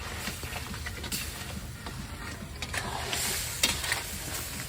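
Crab simmering in a tomato sauce gives a soft, low sizzle, broken by scraping stirs and an occasional metallic clink, all fairly quiet and close.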